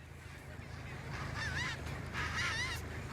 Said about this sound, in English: A large colony of chinstrap penguins lives on the 2-kilometer-long half-moon island